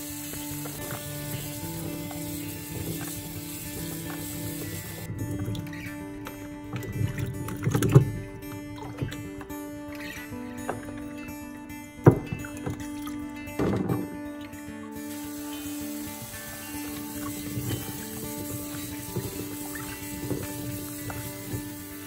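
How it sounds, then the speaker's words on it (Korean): Japanese plums are rinsed under running tap water in a kitchen, a steady stream of splashing with occasional knocks of fruit against the bowl, close and continuous without talk. "우선 매실을 흐르는 물에 두어 번 씻어주세요."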